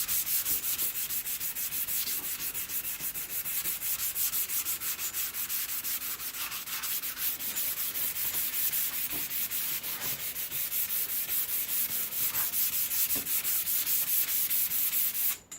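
Steady hand sanding across a skateboard deck, sandpaper rubbing back and forth in diagonal strokes with an even, continuous scratchy texture, close and alone with no talking.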